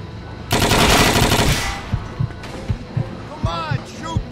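Gunfire in the video game Mafia II: a dense, loud automatic burst lasting about a second, followed by a string of separate single shots, with shouting voices mixed in.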